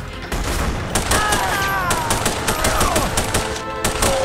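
Heavy gunfire in The Punisher game, with sustained machine-gun bursts and shots layered over one another, loud and close, with voices mixed into the battle.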